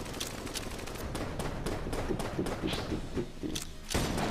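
Rapid gunfire and projectile impacts from a free-to-play PS4 video game, a dense, continuous stream of shots and thuds with several sharper bursts toward the end, steady and loud throughout.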